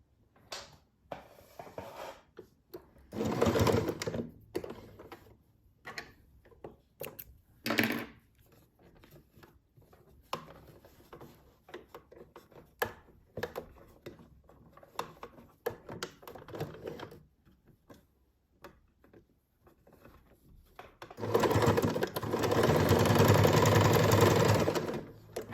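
A sewing machine stitching a seam along a quilt edge, running in short separate bursts of whirring before a longer, louder continuous run near the end, close by, with small handling clicks between runs and no talk.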